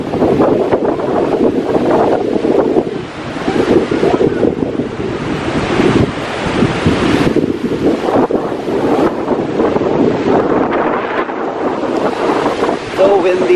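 Strong wind gusting beside a lake at Gillson Park & Beach in Evanston, roaring steadily across the microphone with waves washing in beneath, loud throughout.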